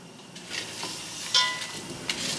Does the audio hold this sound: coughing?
no